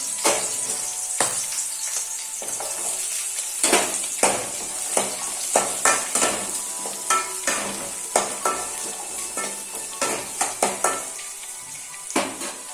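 Grated coconut fries in a pan over a low flame with cumin and coriander, giving a steady bright sizzle broken by repeated rhythmic scrapes and clinks of a spoon stirring against the pan, with no talking.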